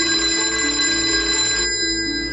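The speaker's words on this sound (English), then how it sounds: "Ringing the police department." A telephone rings steadily at a police department, a sustained bright electric bell tone that fills the clip and stops near the end.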